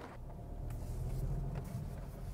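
A Volkswagen T-Cross facelift with the 1.0 TSI engine pulls away, giving a low, steady engine hum and rumble heard from inside the small SUV for a couple of seconds, with no talking.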